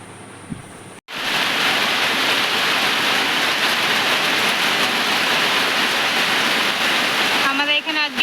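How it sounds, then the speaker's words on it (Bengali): Heavy rain pours down steadily and loudly, a dense continuous roar that starts abruptly after a brief pause and drowns the scene, with a faint voice near the end. "আজকে ভালোই জোরে বৃষ্টি হচ্ছে"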